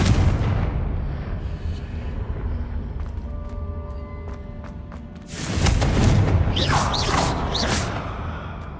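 Explosive Confringo blasting spell in Hogwarts Legacy, a loud booming burst partway through that leaves a crackling, rumbling tail under the ongoing game ambience, with a few faint clicks and tones beforehand.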